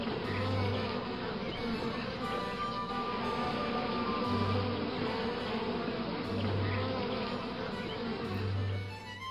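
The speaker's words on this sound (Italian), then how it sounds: "E le giornate contornate dal ronzio delle onnipresenti api." Ever-present bees buzz steadily in a summer meadow, a continuous close droning hum with a few louder passes, no voices.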